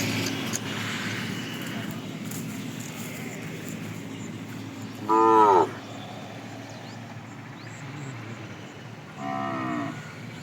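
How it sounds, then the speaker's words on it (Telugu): A young cow calf, about four months old, gives two short moos at a livestock sale in Duvvur town, Kadapa district, heard against a faint outdoor background. "చిన్న ఆవు దూడ"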